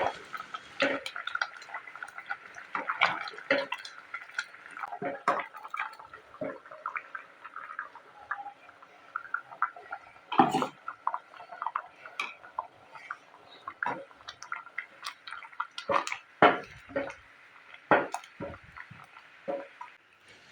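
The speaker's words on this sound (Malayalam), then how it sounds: "ഇനി ഇതിലേക്ക് അരച്ചു വെച്ചിരിക്കുന്ന തേങ്ങ ഒഴിച്ച് മിക്സ് ചെയ്ത് കൊടുക്കുക" Ground coconut paste poured into a spinach-stem and green gram curry and mixed in, giving soft wet stirring, spoon taps and clinks against the pot in an uneven rhythm, close and fairly quiet.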